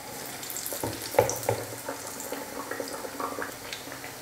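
Karamani vadai, black-eyed pea fritters, frying in hot oil: a soft continuous sizzle with small crackles and pops, close and fairly quiet, no voices.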